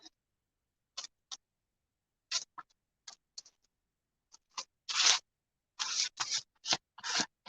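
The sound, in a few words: scraping down craft paint in a journal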